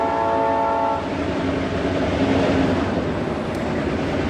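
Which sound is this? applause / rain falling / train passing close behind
train passing close behind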